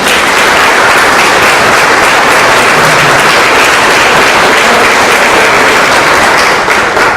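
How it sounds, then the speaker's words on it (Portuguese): Loud, dense applause from an audience at an institute's launch event, a steady wash of clapping that carries on unbroken for about seven seconds with no voices over it. "uma salva de palmas"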